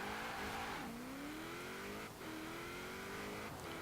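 A 2005 Vauxhall Monaro VXR in Forza Horizon 4 accelerates hard, its engine note climbing steadily and then dropping sharply at two gear changes before rising again, a continuous drone heard alone.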